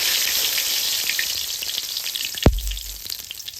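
Whole cumin seeds and bay leaf sizzle in hot oil for a tempering, a steady close hiss and crackle with scattered pops and a sharp stirring clatter partway through.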